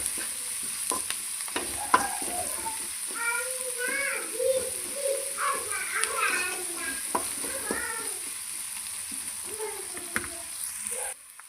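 Onions sautéing with a little salt in a pan for chicken curry, a steady sizzle with repeated spoon scrapes and stirring clatter, close and fairly quiet, with faint tonal chirps that may be a cat or child in the background.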